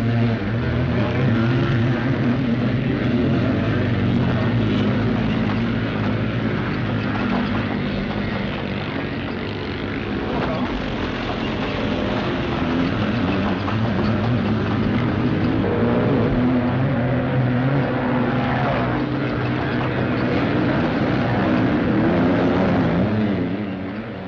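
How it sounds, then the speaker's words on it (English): Motocross scrambling motorcycles at a 1960s European race, engines roaring steadily as they climb banks on a rough course, a loud continuous drone heard from nearby without let-up. "Engines scream as they roar up the banks."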